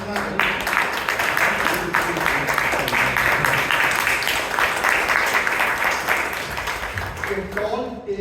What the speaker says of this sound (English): Can we have a big round of applause for Karnataka?